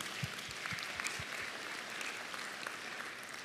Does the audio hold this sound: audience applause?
yes